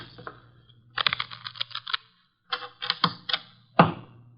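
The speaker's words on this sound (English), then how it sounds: "The cards are shuffled." Playing cards shuffled on a table during a card game, heard as bursts of rapid riffling clicks in several separate runs, close and fairly loud with short pauses between.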